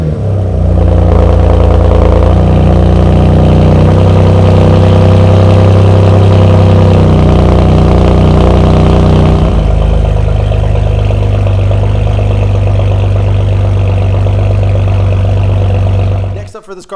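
BMW S55 M3 with catless downpipes idling steadily after a cold start, a loud, close, droning exhaust note with a deep rumble that settles slightly lower about halfway through, running alone without pauses.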